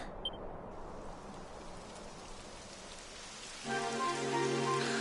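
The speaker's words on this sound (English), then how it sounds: "It would have to go and start raining, wouldn't it?" Steady rain patters across the whole stretch in Dragon Quest XI, with a brief tonal chime early on and layered musical tones rising in the last second.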